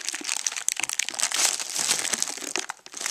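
Plastic packaging of an Elgato Game Capture HD being opened by hand, a dense, continuous crinkling and crackling close up, with no talk.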